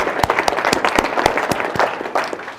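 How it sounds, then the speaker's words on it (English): Small workshop audience gives a short round of applause, individual claps distinct and close, fairly loud for under three seconds. "Let's give her a applause."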